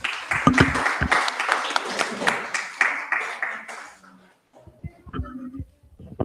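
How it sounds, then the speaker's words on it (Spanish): A class group claps for two student groups in a dense burst of applause lasting about four seconds. After it fades, a teacher's voice speaks briefly. "aprovechamos para hacer el aplauso a los dos"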